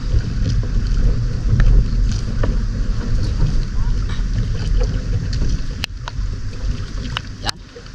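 Strong wind blows steadily and loudly across the microphone at Bakdits as a typhoon approaches, a continuous rumbling gust with a few sharp clicks and knocks near the end.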